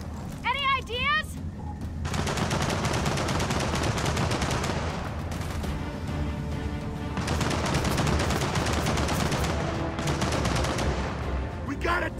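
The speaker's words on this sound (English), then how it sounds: "Hold up, there's a turret! Damn it! It's dug in!" Rapid sustained gunfire from a dug-in turret in Gears of War 4, dense and loud in long bursts with short gaps, mixed with game effects and a brief high chirping sound near the start.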